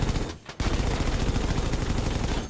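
Rapid automatic gunfire in Battlefield V aimed at an enemy aircraft, a loud, dense, continuous burst of shots with a brief gap near the start before firing resumes steadily.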